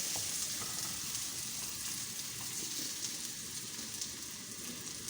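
Onions browning in a pan for a restaurant-style mutton curry give a steady, even frying hiss with soft stirring scrapes. It runs alone and continuously, with no voices, and cuts off abruptly at the very end.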